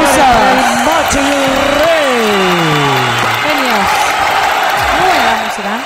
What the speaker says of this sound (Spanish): Arriba los aplausos.